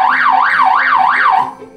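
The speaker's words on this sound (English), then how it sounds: "Buzzer." An electronic buzzer-like alarm tone rises and falls in a rapid repeating wail, loud and close, for about four cycles before cutting off abruptly.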